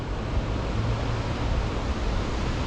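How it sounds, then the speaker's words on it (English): Broad, steady roar of the Venta waterfall at Kuldīga, Latvia, Europe's widest natural waterfall, a continuous close rush of falling river water with no voices. "that's what you're looking at, the Venta waterfall"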